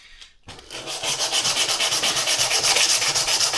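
Hand sanding with 80 grit sandpaper: after a brief knock, steady back-and-forth scratchy rubbing strokes set a fast, even rhythm, close and loud with no voices.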